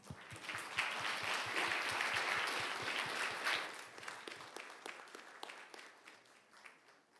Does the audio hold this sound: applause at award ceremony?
yes